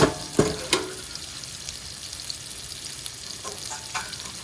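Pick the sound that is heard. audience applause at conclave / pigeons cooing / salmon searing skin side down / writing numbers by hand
salmon searing skin side down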